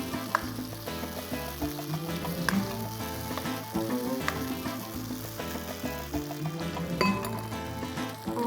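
Garlic frying in a pan for penne arrabbiata, a steady close sizzle with faint crackles that runs the whole time, no talking.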